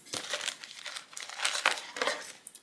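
Crinkly plastic packaging from a dash cam's screen protector crackles and rustles in close, continuous handling for a couple of seconds.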